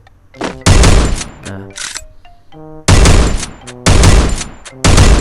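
Winchester gun firing in the Free Fire video game: four loud, heavy blasts, each ringing out for a moment and spaced about a second apart, with quieter game sounds and tonal effects in the gaps.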